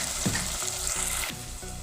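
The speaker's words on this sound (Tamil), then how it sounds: "புதினாவும் கொத்தமல்லியும் சேர்த்து இது கூட நல்லா வதக்கிக்கிறேன்" Chopped mint and coriander sautéing in a hot pan for chicken dum biryani, a dense close sizzle with soft stirring scrapes, steady throughout and easing slightly toward the end.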